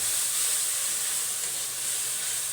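Pangas fish masala fries with bori, lentil dumplings, in a pan, giving a constant, bright sizzle and hiss that holds steady and fairly loud throughout without any talk.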